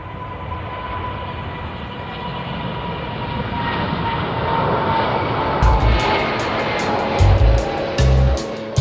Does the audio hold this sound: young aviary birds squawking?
no